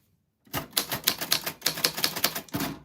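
A typewriter clatters through a quick, steady burst of key strikes lasting about two seconds, close and crisp, with a final louder strike at the end.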